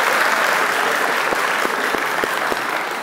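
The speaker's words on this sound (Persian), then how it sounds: "کف زنیم برای رامین جانم" A studio audience on a family game show applauds, a dense steady burst of clapping from a crowd filling the room.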